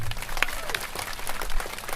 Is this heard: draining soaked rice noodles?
no